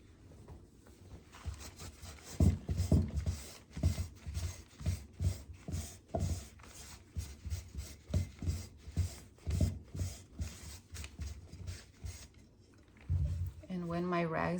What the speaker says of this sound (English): I'm gonna wipe off the excess as I go